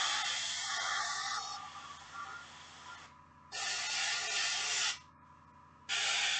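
An airbrush or spray can hisses out thin coats of paint onto the knee armor of a Space Wolves Redemptor Dreadnought miniature, a long steady spray followed by two shorter bursts with quiet gaps between them.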